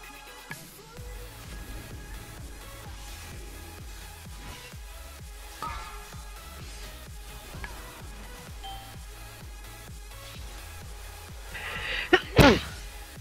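A single sharp, close sneeze bursts out near the end over quiet, continuous background music and sound effects from a World of Warcraft raid.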